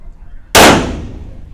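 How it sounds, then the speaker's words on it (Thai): A single loud, sharp shot from an Alien 9mm pistol during slow-fire range testing cracks out close by, then rings off in a fading tail, with faint background noise before it. "อันนี้คือยิงช้าๆ จะลองปั้นดูนะคะ สักห้านัด"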